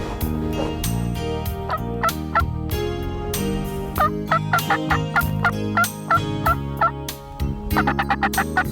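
A wild turkey gobbler gobbles repeatedly in bursts across the clip, loud and fairly close, over a background of other sound with no talk.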